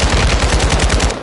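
Rapid suppressing gunfire in Call of Duty MWII, a loud close burst of about a dozen evenly spaced automatic shots that stops abruptly.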